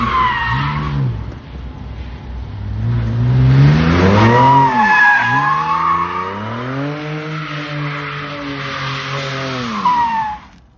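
A 2027 Dodge Charger Super Bee drives close by, its engine rising and falling through repeated acceleration sweeps with a tire-squeal edge, loud and continuous for about ten seconds with no speech.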